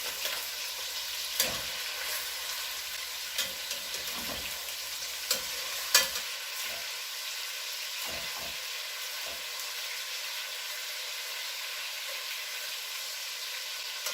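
Chicken pieces with skin and bone browning in a pan for coq au vin, a steady broadband sizzle running throughout with a few sharp spatters and utensil clicks scattered over the first half, no voices.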